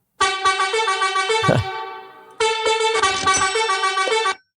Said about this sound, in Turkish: Korna sesi.